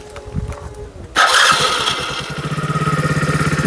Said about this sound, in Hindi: ये रहा भाई इंजन साउंड